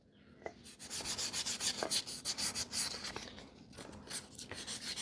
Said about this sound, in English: I am going to take some 1000 grit sandpaper right where the seal rides.